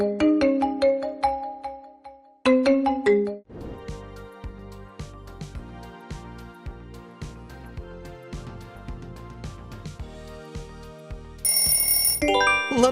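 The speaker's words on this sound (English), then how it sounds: "Lenovo! Great job!" A Lenovo smartphone ringtone plays as a bright, repeating melodic tune of bell-like electronic notes, loud and clear, with no one talking.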